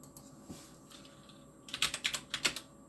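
Fingers tap out a short burst on a computer keyboard, quiet scattered keystrokes at first, then a quick rhythmic run of sharper clicks close by, with no voices.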